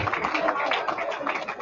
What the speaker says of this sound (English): can you clap for Governor Godwin Obaseki?